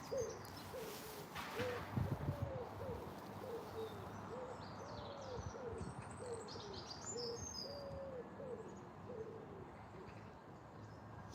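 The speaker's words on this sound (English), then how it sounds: "I love the sound of pigeons cooing" Pigeons coo outdoors on a hiking trail, a soft repeated low hooting phrase that rolls on steadily for several seconds, faint and somewhat distant, with birdsong twittering higher above it.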